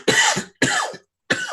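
Three harsh coughs in quick succession, close and loud, with short pauses between them and no talking.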